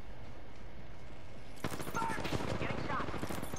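Rapid automatic gunfire in the battle royale shooter Apex Legends erupts suddenly after a stretch of steady background noise, a dense cluster of quick shots sounding moderately close.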